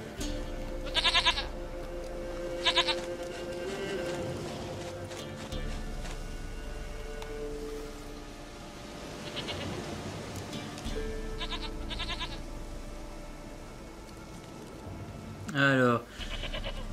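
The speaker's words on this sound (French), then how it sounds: "Une chèvre à moi, gentille, douce biquette." Goat in The Witcher 3 giving a few short bleats, spaced apart, over steady game ambience with occasional clip-clop and voices talking.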